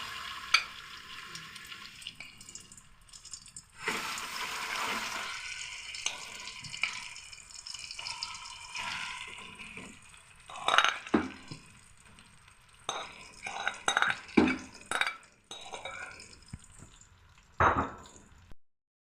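Ground chana dal stirred into hot ghee in a pan for halwa: a soft, continuous frying hiss with repeated scraping and clinking of a spoon against the pan, growing busier toward the end.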